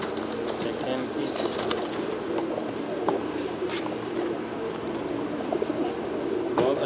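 Purebred pigeons cooing in a pigeon shop, low overlapping coos forming a steady murmur, with occasional wing flutters and clicks, and a voice faintly in the background.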